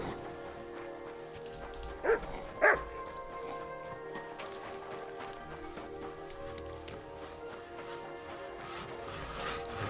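A dog in the video game Kingdom Come: Deliverance II gives two brief yips at a charcoal camp, faint against steady ambient game sound and music.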